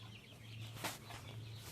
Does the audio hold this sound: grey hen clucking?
yes